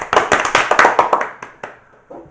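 A single person claps loudly and close by, about ten sharp hand claps in a quick, slightly uneven rhythm that trail off, during reading time on a Korean education talk show.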